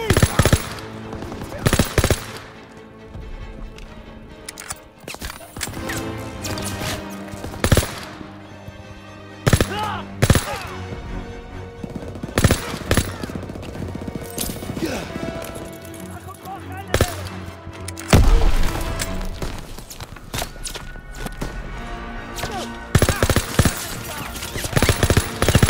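Sustained machine gun fire from a hayloft position during a Call of Duty WWII D-Day Normandy beach invasion, loud bursts mixed with shelling and explosions, with shouted voices over the battle.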